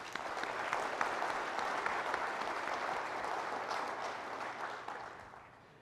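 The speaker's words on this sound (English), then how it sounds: "Please join me in giving him another round of applause." A conference audience at an association's annual meeting applauds in a sustained, dense wash of clapping that holds steady for several seconds and then fades toward the end.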